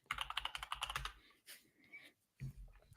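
Rapid clicking keystrokes on a mechanical keyboard, loud and close, in a dense burst for about a second, then a few scattered key presses with pauses between them.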